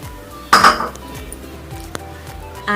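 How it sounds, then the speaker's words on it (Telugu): A small kadai set down on a stove for deep-frying fish gives one bright metallic clank of pan against burner, ringing briefly before fading into a quiet room; no pouring of oil stands out afterwards. "ఒక చిన్న కడాయి పెట్టేసుకొని డీప్ ఫ్రైకి సరిపడా ఆయిల్ వేసుకోవాలి"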